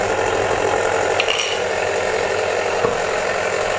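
A cheap grinder running steadily at close range, a loud continuous mechanical whir and grinding with slight rattling and no pauses.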